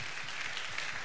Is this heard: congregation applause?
yes